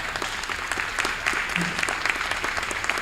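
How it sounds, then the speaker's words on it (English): Steady audience applause at a school board meeting for a strategic planning team, many hands clapping evenly and fairly close for several seconds without pause. "Please give them a round of applause."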